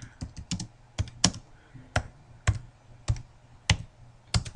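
Typing on a computer keyboard: a sparse, uneven series of crisp key clicks close to the microphone over a faint hum, with short pauses between keystrokes.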